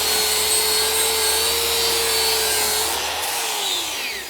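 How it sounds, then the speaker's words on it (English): A power grinder runs steadily, grinding paint off the cross member of a Chevy Express 4x4 van. The whine is loud and continuous and close by, and it eases off slightly near the end. "I'm going to grind the paint off there now"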